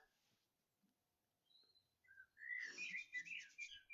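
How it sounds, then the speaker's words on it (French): Birds chirp and whistle outdoors, first in a few faint isolated calls, then in a louder, dense burst of overlapping tweets near the end. "C'est vrai, Cristal, les oiseaux, c'est agréable"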